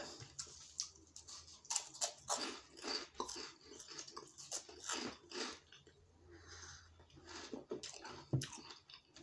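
Someone eating sweet corn sticks from a store bag, with crisp bites and crunchy chewing in irregular bursts, close to the microphone, and no talking.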